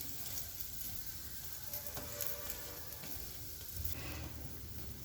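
Paratha roasting on a hot griddle with butter while being pressed gently, giving a steady close sizzle that runs the whole time with no talking.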